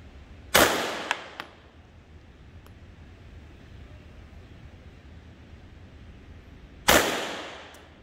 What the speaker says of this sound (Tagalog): Firing line is ready. Commence firing.